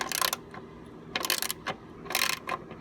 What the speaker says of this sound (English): once it gets to a point where it starts to really tighten up, I'll put it on loosen, and then I'll loosen it.